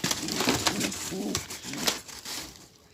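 Posta and miski pigeons cooing in a low, soft murmur with rustling and flapping nearby, a few sharp bursts of wing noise breaking through.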